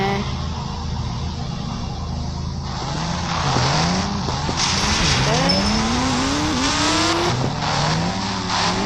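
Ghost Rider motorbike racing in the Indian Bike 3D video game, with a loud continuous engine drone that revs and sweeps up and down in pitch and sharp tire-squeal skids, all alone without talk.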